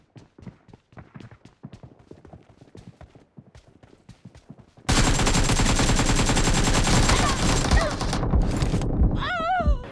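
AKM rifle fire in the PUBG video game: after soft footstep-like taps, a loud sustained burst of rapid automatic shots fills the second half, close and dense, with no talk.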